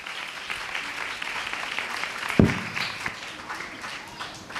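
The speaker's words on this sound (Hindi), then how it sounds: "हम जोरदार तालियों से उनका स्वागत करेंगे।" Steady applause from a church congregation, a dense patter of many hands clapping throughout, with one louder thump partway through.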